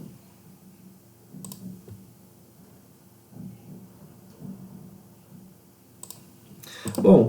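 Keys clatter on a computer keyboard in brief, soft bursts separated by pauses, with a louder thump close to the end.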